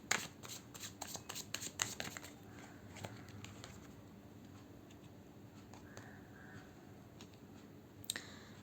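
Tarot cards being shuffled by hand, quiet rapid riffling and clicking bursts in the first seconds, then softer intermittent shuffling in a calm, hushed room.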